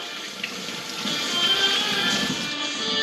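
Steady running water from a tap as hands are rinsed under it, a close continuous splashing hiss that holds throughout without talk.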